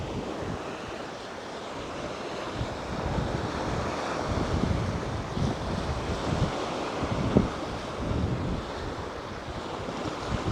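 Steady wash of surf on Samae Beach, Koh Larn, heard while walking along the waterfront, mixed with gusty wind buffeting the microphone, moderately quiet with no voices.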